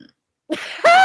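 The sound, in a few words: burping and croaking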